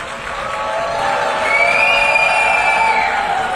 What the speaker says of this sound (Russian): В то же время в зале было много и тех, кто встал и поддержал премьера аплодисментами.